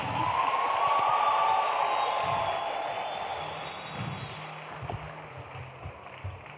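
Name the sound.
audience applause for the panelists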